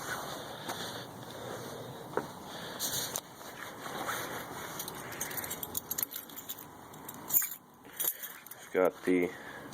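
Original key for a Saturn car jangling on its ring, a few light metallic clinks near and close, with faint background noise and some quieter rustling between.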